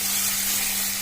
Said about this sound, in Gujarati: ત્યાર પછી કાંદા, ટમેટા, લીલા મરચાં, આદુ અને એની પેસ્ટ નાખી અને અહીંયા આપણે ગ્રેવી બનાવી રહ્યા છીએ।